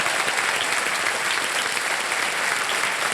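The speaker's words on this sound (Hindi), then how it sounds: "जोरदार तालियां बज जाए इनके लिए।" Dense, steady applause from a large audience fills the whole stretch, loud and continuous without a break.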